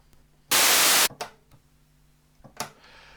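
A loud burst of hissing white noise from a Yamaha CS-5 synthesizer cuts in for about half a second and stops abruptly, followed by a few faint clicks and a brief softer hiss.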